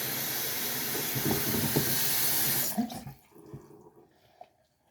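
Water rushes hard for about three seconds to rinse paper pulp in a mold during handmade paper making, then cuts off, leaving scattered drips and light clatter.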